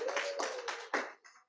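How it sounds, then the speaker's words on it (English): A small group at a climate justice summer school workshop claps briefly, a few bursts of applause that fade quickly, fairly close and moderately loud, with no talk. "They deserve a clap."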